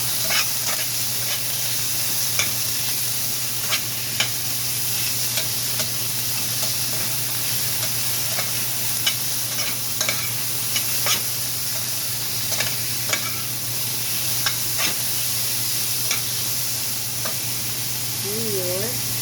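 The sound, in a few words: meat stir-frying and sizzling in a pan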